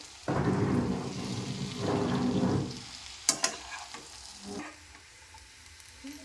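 Leftover chapati pieces are fried and stirred in a pan in two loud bursts of sizzling, followed by quieter scraping knocks of the spatula and a few sharp clanks, with no speech.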